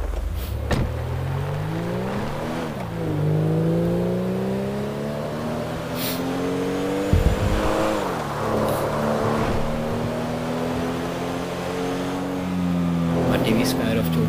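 A car engine in Grand Theft Auto 5 drones and shifts pitch as it drives and accelerates, rising and dropping through gears, with character dialogue spoken over it throughout.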